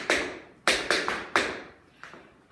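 Crisp tap shoe strikes from a single shuffle-step pattern, five sharp metallic taps in an uneven rhythm with two close pairs, near and alone in a quiet room.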